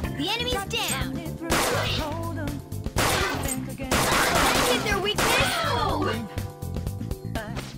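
Repeated gunfire in Persona 5, aimed at a shadow, arrives in several loud clusters of shots with brief gaps between them, mixed with game music and character voices.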